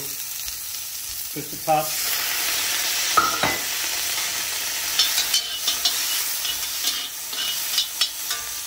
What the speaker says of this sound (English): I'm gonna saute this for a minute. And I'm gonna add just a touch of rice wine.